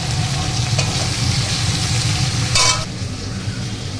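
Green chillies fry in hot oil over a high flame, a steady close sizzle with a brief louder crackling burst.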